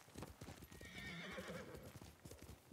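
In the video game Ghost of Tsushima, a horse's hooves clop steadily over the ground while the horse neighs in the middle of the run. The hoofbeats and whinny sound faint and continuous against busy background sound.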